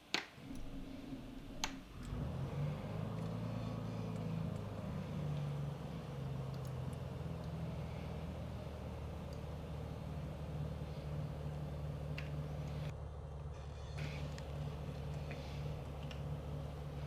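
A Beech Bonanza's propeller engine in Microsoft Flight Simulator 2020 starts with a brief cough, then settles into a steady, loud idling drone that runs unbroken to the end.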